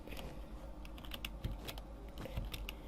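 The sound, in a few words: computer keyboard typing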